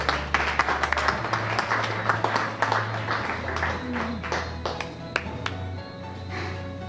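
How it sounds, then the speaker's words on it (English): Applause at a Latin night charity event for the planet, scattered clapping and taps over a low musical hum and crowd murmur, moderately loud with some distinct individual claps. "Give her a round of applause, please."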